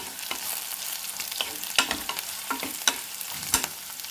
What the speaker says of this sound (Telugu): మూత పెట్టి ఒక 5 నిమిషాలు మన బెండకాయ, క్యాప్సికమ్ కొంచెం మగ్గించుకుందాము.